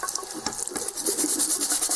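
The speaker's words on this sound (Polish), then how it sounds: "Normalnie w życiu lejemy wodę na ten sterownik." Water pours and splashes while a VW/Audi control module is washed with a brush, a steady rushing stream that grows louder and more continuous in the second half.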